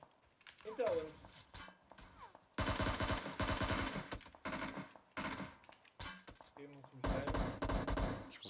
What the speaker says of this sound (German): Okay, er schießt. Auf mich.